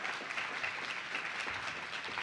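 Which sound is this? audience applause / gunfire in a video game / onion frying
audience applause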